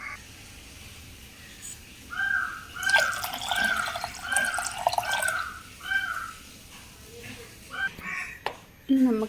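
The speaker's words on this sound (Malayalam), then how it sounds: "എന്നിട്ട് കുറച്ച് വെള്ളം കൂടെ ചേർത്ത് ഒഴിച്ചു കൊടുക്കാം." Water is poured into ground masala paste while making Kerala-style fish curry, with bursts of splashing and dripping liquid in the middle, close and moderately loud, framed by quieter kitchen moments.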